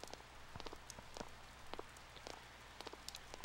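Soft, steady rainfall in the video game Persona 4, a faint, even patter with scattered light drop taps and no talking.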